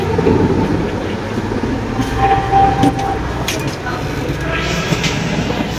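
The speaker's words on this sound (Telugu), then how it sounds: "అదే అనమాట మన ట్రైన్ సబరి." The Sabari Superfast Express, Secunderabad to Thiruvananthapuram Central, stands at platform 6: a loud, steady rail rumble with clacking and faint squeals, with a murmur of people underneath.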